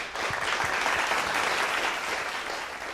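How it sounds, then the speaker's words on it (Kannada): Dense, continuous applause from a studio audience at a singing reality show, loud and close, sustained throughout with no break. "ಬರಲಿ ಒಂದು ಚಪ್ಪಾಳೆ ಇವ್ರಿಗೆಲ್ಲ."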